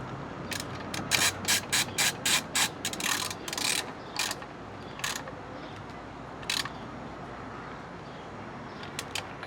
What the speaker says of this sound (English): I'm just gonna go around, put an extra little torque on each of these